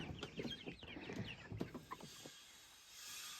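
Rhode Island Red pullet clucking close by in a chicken run next to the coop, a string of short uneven clucks and squawks over about two seconds before the sound fades out.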